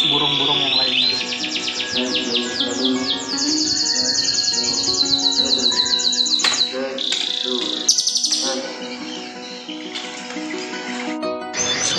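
A caged white-rumped shama (murai batu) sings while bathing, pouring out loud, rapid whistles, trills and chirps in quick varied phrases, close and continuous throughout.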